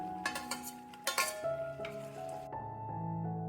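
Tomatoes go into a pot of sambar with a few light clinks and scrapes of a utensil against the pot, followed by quiet stirring and a soft simmer with a faint tonal hum behind it.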